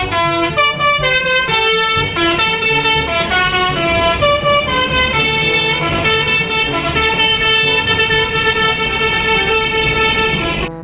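A telolet bus horn plays a loud, close melody of quick changing musical toots, continuous and bright throughout, with no speech over it.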